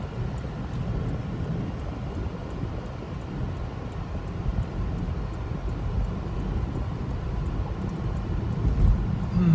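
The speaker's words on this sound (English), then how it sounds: "Looks like we got some weather coming in, bro. Pretty weird. It's kind of windy." Wind blows in a constant broad rumble, buffeting the microphone, with a low thump near the end.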